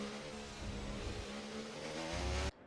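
A McLaren Formula car at speed during a racing game lap at Japan, its engine a loud sustained high whine with steady harmonics that climbs slightly before cutting off abruptly near the end.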